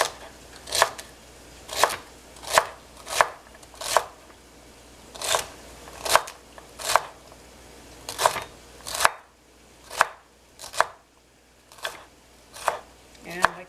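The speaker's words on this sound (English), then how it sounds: "I like to chop celery in smaller pieces like this." Knife blade knocking steadily on a cutting board while celery is chopped into small pieces, about one crisp, close chop per second over a faint room hum.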